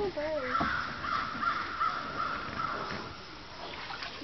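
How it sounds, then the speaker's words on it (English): A crow caws repeatedly near a river during a canoe trip, its harsh calls carrying over steady water and paddling noise, with people talking quietly nearby. "That's a bird."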